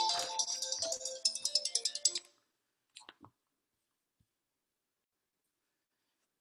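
A mobile phone rings nearby with a bright, pulsing electronic melody that cuts off after about two seconds, leaving near silence with a few faint clicks during a quiet pencil drawing session.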